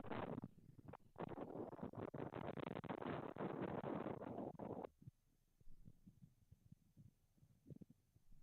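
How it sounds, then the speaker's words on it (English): Strong gusty wind buffets the microphone at a village cricket ground, a loud roaring rumble for several seconds that then drops to lighter, fluttering gusts. "So the wind still blowing very strongly"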